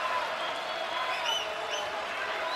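A basketball arena crowd murmurs and cheers steadily at a college game between Wichita State and UConn, a broad continuous roar with scattered whistles and shouts under a commentator's voice.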